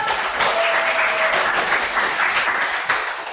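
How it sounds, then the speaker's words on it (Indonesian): A classroom of students claps for a peer after a lesson on Eid prayer, a short burst of steady, fairly close applause lasting a few seconds. "Beri tepuk tangan dulu dong."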